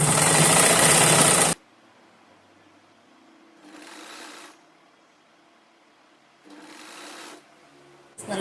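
A sewing machine stitches folded fabric for a long frock in a loud opening burst, then runs in two shorter, quieter bursts separated by near silence.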